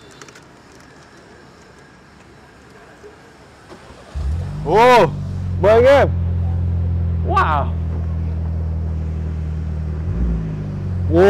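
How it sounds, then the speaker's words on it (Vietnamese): Someone speaks briefly, then a classic British Morgan sports car engine starts with a deep exhaust rumble and revs sharply three times before settling into a throaty idle. "tôi sẽ nổ máy của một chiếc xe thể thao cổ điển lên để cho anh em nghe"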